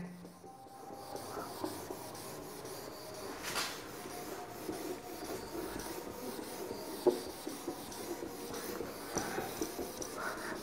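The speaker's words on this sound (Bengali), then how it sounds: "এবারে মুছে দিচ্ছি এটাকে" Writing is wiped off a board during a maths lesson: faint, continuous scratchy rubbing strokes with a few small knocks, and no voice.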